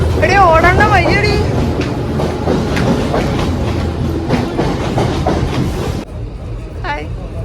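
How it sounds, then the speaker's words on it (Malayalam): Train arriving at a railway station, loud rumbling wheels and rhythmic clickety-clack close by with a rising horn-like squeal early on, continuing steadily before easing near the end; voices talk faintly at moments. "അങ്ങനെ കുറേ നേരത്തിന് ശേഷം ട്രെയിൻ വരുന്നുണ്ട്."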